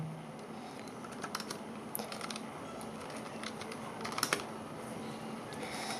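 Typing on a computer keyboard, a steady patter of light clicks with small clustered bursts, quiet and close, alone over a faint background hiss.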